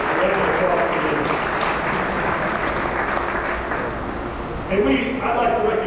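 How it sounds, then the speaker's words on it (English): Applause at a high school academic banquet, a dense, steady wash of clapping from the room that dips slightly near the end before a brief swell. "so round of applause for them"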